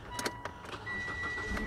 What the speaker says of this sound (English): I don't know if you can hear that, but she's started.